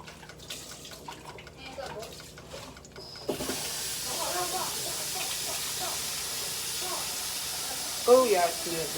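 Shrimp sizzle and hiss in a hot pan, a steady frying crackle that grows louder partway through, with someone speaking briefly over it.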